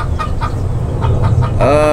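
Backyard chickens kept close together in a small area cluck in short repeated bursts nearby, and one bird lets out a louder drawn-out call at the end.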